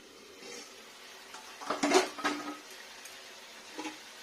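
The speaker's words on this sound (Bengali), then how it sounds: "দেখুন ঢাকাটা খুলবো আস্তে করে" A metal lid lifted slowly off a frying pan of green leaves cooking in oil for a vegetarian dish, a few soft clinks and scrapes in the middle over a faint sizzle.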